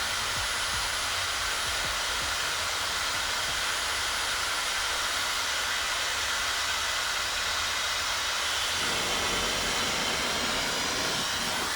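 A Dyson Supersonic hair dryer runs on its heat setting, a loud, steady airy whoosh with a constant high whine, its low end shifting slightly partway through, without speech.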